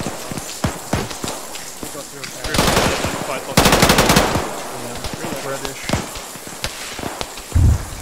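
Machine gun fire in the military shooter Arma 3, coming as bursts of rapid, loud rattling shots, with a long sustained burst in the middle, under a voice talking over radio chatter.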